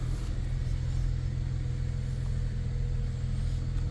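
A Holden Commodore reverses out and pulls away, giving a steady low engine rumble close by with slight rises in revs over a few seconds and no voices.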